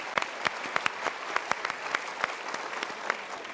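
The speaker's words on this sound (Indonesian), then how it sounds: "Kita berikan tepuk tangan." An audience at a stage talk show bursts into brief, lively applause, a dense patter of claps with a few sharper individual hits, moderately close and steady across the few seconds.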